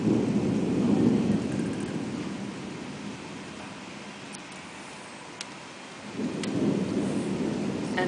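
Thunder rolls through a storm in Singapore as a loud, sustained low rumble over steady rain, fading in the middle and then swelling again near the end.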